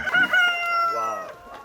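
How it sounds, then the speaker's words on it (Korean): Free-range chickens on a pasture farm cluck and call in a busy, close chorus of overlapping squawks as the birds are let out to roam, with no talking. "지금 다른 닭들 놔주고 있는 거예요"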